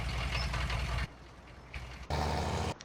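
A truck engine runs in a farming simulator game at Marksville; a loud low rumble cuts out, goes quiet for about a second, then roars back before stopping again.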